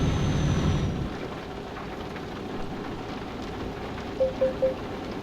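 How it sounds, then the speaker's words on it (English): Rain falling in the video game Euro Truck Simulator 2, a soft continuous patter inside the truck cab, louder briefly at the start, followed by three short beeping tones near the end. "just started raining."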